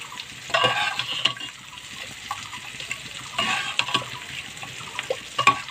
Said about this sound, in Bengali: আর এদিকে উচ্ছেটাও আমার বেশ ভাজা হচ্ছে দেখো